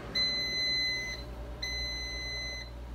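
Air fryer beeping as apple slices finish cooking: two long, bright electronic tones, each about a second, with a short gap between them, clear over a low kitchen hum.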